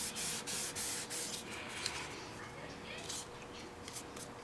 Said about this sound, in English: I turn it over and kind of rub the back.